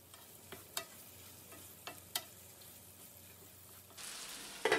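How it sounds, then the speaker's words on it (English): Vegetables and spices for a Bengali fish curry with flat green beans are tossed in a pan. A few faint clinks and stirs sound over a soft sizzle, and a louder rush comes at the end. "Toss everything together really well until all of the spices are mixed into the vegetables."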